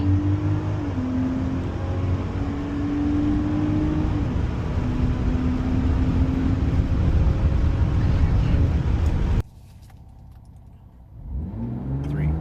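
A 2025 Ram RHO pickup with a Diablo Sport tune accelerates hard, its engine roaring loudly with rising pitch and wind rush before cutting off abruptly, then faintly rising again.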